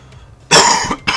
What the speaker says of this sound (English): Wow, my apologies for that cough.